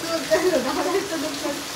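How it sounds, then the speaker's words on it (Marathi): Heavy monsoon rain pours outside a house with a steady broadband hiss, and a person talks over it throughout. "हे बघा किती पाऊस चालू आहे"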